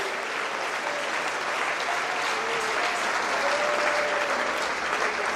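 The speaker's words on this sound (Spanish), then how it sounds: "aplaudimos a ti, Jesús, por tu obediencia al Padre" Sustained applause from a large church congregation, steady and dense throughout with no pauses, heard from within the room.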